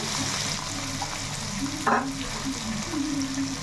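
Mutton biryani masala with coriander sizzles and fries steadily in a pan, a continuous hiss with a brief stir scrape partway through, close and moderately loud.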